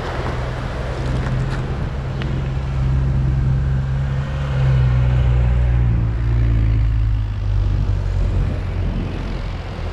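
A column of 4x4 off-road vehicles, including a Niva and a Toyota, drives along beach sand at the water's edge, producing a steady low engine drone that swells in the middle, with wind and surf noise around it.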